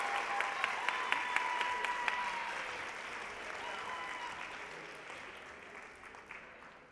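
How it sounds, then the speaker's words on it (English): Audience applause at a senior awards night for a high school class, a broad wash of clapping that starts fairly loud and slowly fades over several seconds with no voices. "Let's give another round of applause to all of our award recipients."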